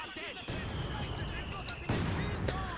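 Gunfire and battle explosions from a Company of Heroes 2 match, British assault engineers under fire from German assault grenadiers, dense rumbling shots under a calm commentating voice.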